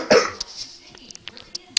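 A sick person coughs once, loud and close, at the start, followed by a few faint short throat sounds and breaths.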